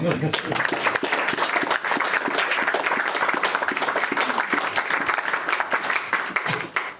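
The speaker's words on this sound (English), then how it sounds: "I feel like that one deserves a round of applause." Audience applause for a guest at an in-store talk at Rough Trade West, a steady, dense wash of many hands clapping that holds at full strength for the whole stretch, close and fairly loud.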